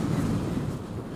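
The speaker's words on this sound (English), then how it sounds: "It's only mildly windy." Wind gusts buffet the microphone on a cold, breezy beach, a low rumbling rush that stays steady and close for a brief moment with no voices.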